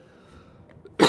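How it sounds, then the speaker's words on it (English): A single sharp cough bursts out near the end after a quiet stretch of soft outdoor background, close and fairly loud, at a Liverpool waterfront during a cruise sail-away. "I apologize for the cough."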